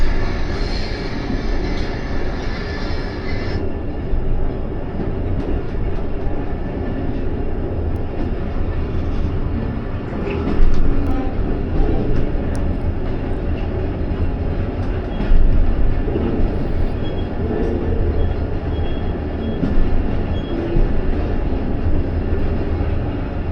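The 47 Up Rehman Baba Express rumbles past near Mansoorwali, a loud sustained roar of wheels and carriages with rhythmic rail clatter and occasional louder surges, no voices over it.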